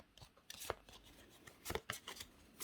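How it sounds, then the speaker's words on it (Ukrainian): Tarot cards, the aces of the deck, are shuffled by hand in a tarot game, a few short, crisp riffling and slapping bursts heard up close and quiet. "Тасуємо тузи."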